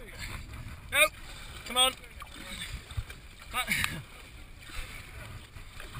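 Paddles dip and splash around a cardboard boat racing on water in Bristol, soft irregular strokes and sloshes under wind noise while people talk and shout nearby.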